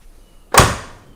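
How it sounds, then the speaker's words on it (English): An old Oldsmobile car door swings shut with a single solid, close thud that rings out briefly and fades, with no talk over it. "That door closes incredible."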